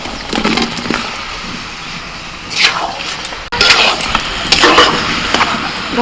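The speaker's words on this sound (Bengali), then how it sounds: "মশলা ভালো করে কষানো হয়ে গেছে এবার ভাজা আলু দিয়ে দেবো বদি দাও ঢেলে দাও" Fried potatoes tipped into a pan of well-cooked spiced masala, giving a close sizzle and wet stirring scrape that swell in two bursts around the middle and end of the clip.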